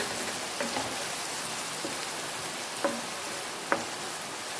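Rain falls outdoors during home cooking as a constant soft hiss with a few sharper drips or clinks standing out now and then.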